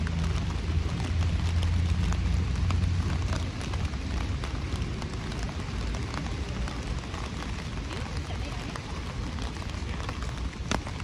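Rain falls steadily around Osaka Castle, a dense, even hiss of drops that stays close and constant throughout, with no voices standing out.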